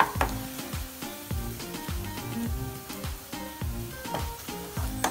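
Onions sautéing in a pan for a Kerala egg roast, a steady sizzle broken by repeated scraping stirs of the spatula at an irregular rhythm, close and moderately loud with no talking.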